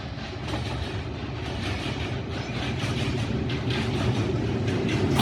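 A train races through Badamibagh station at high speed, its steady, loud rumble and rattle of wagons continuous throughout, with faint clicking of wheels over rail joints.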